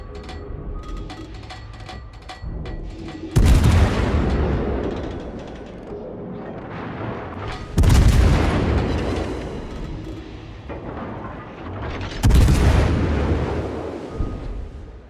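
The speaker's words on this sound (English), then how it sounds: "Concentrate fire on the enemy warship." Heavy naval guns from an Annapolis super cruiser in World of Warships boom in three loud salvos, spaced about four seconds apart, each blast followed by a rumbling decay over steady background battle noise.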